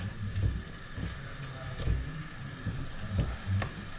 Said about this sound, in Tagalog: Yan na guys, kumukulo na.